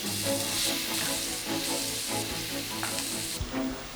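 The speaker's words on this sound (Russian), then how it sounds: "И жарим лук, нарезанный кубиками." Diced onion fries in hot ghee with a steady, close sizzle and crackle, while stirring adds occasional scraping sounds throughout.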